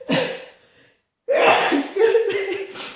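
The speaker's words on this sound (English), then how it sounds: "So I can tell already, I'm going to sneeze" A single sneeze, close and sharp, preceded by a short breathy intake, followed by a brief pause and some breathy laughing sounds.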